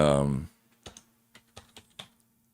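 Typing on a computer keyboard, several sparse soft key clicks in an irregular rhythm following a brief hummed sound, close but quiet.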